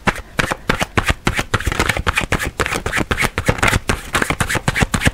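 A deck of tarot cards is shuffled by hand up close, a fast run of crisp riffling slaps and flutters that continues steadily without talk.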